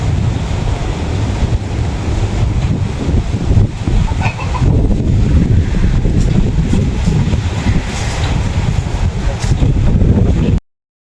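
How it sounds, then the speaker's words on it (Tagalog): Strong wind buffets the microphone outdoors in a steady, loud, broadband roar for about ten seconds, while pork simmers nearby during cooking of tinuto na gabi, a taro dish, with no talking. "Dito po yung malakas po ang hangin."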